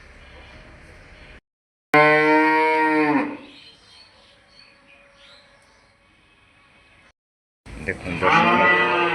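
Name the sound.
farm cattle mooing while waiting for morning feed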